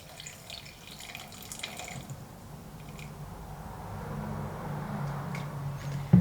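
Coconut water pours steadily into a container, a soft continuous liquid trickle that builds gradually over several seconds and ends with a small knock, with no voices.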